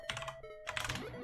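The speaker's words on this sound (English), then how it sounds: "Okay, I can hear you typing" Rapid typing on a computer keyboard, picked up through a Discord voice call: two close bursts of quick clicky keystrokes separated by a brief pause, with no talking.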